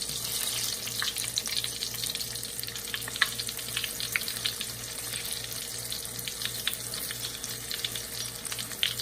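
Cod fish hush puppies fry in a pan with a steady, close sizzle and crackle, small pops scattered over a continuous hiss, with a low rhythmic hum underneath.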